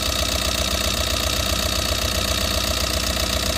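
A Tata Super Ace mini truck's diesel engine idles steadily with a low, even rhythmic knock, close and continuous with no talk over it.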